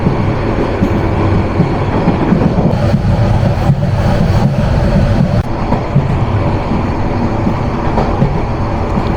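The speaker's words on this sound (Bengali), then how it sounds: "আমাদের আন্তনগর তুর্না নিশিতা থ্রুপাস করে যাচ্ছে শালদানি রেলওয়ে স্টেশন" Turna Nishita intercity express runs through Saldani railway station with a loud, steady rumble and rattle of wagons and wheels, close by and continuous, with no voices.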